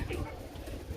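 A pigeon coos softly, a low throaty burble close by, lasting about a second.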